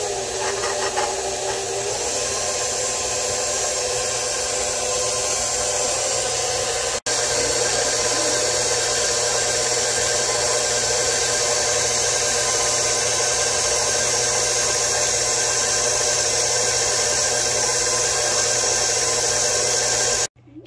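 Brownie batter with four eggs and almond being mixed: a steady, continuous whirring hiss that holds for about twenty seconds and cuts off abruptly, with no voices.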